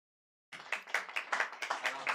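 A small audience at a live poetry and jazz reading gives scattered golf claps: quiet, sparse hand claps in an uneven rhythm, starting abruptly after silence and continuing for about a second and a half, close and faint.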